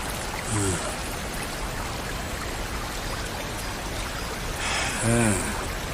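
Steady rushing water runs throughout, with two brief faint voice-like bursts rising over the constant flow.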